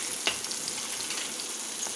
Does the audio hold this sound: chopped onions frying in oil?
yes